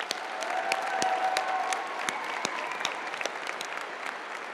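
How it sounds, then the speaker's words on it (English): A crowd at a high school graduation ceremony applauds the musicians and vocalists with dense, sustained clapping that fills the hall at a steady level for several seconds. "let's give one more huge round of applause to all of our musicians and vocalists today"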